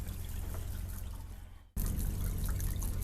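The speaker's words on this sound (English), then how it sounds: "I'm going to go ahead and flush some of this water, and we'll let that run" Water runs steadily from an RV faucet in a Rockwood Mini Lite 2205S travel trailer while the lines are flushed of bleach during dewinterizing, a continuous close hiss and splash with a brief dip in flow partway through before it resumes at full force.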